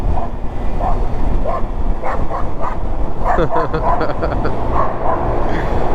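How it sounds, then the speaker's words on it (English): A dog barks aggressively at the roadside during a scooter food-delivery ride, short sharp barks heard over wind and traffic noise while someone talks over much of it. "This dog is vicious right here."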